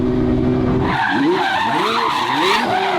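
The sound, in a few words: twin turbo Ferrari F12 drifting, tires skidding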